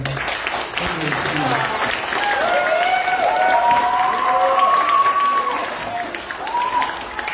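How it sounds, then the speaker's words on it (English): An audience at a scout troop court of honor applauds, sustained clapping with voices and cheering layered over it. "We get another big round of applause for our"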